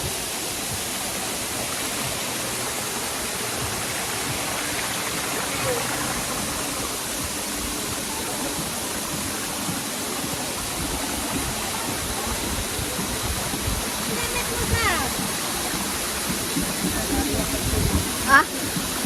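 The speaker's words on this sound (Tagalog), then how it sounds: "So, ayun yung malaking falls." Batlag Falls, a large waterfall, roars as a steady, dense broadband wash close by, with faint voices and a few small knocks near the end.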